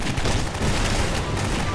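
Bombs going off in the video game Garry's Mod during a FNAF co-op session: a loud, continuous barrage of overlapping blasts and crackling booms that rolls on without a break.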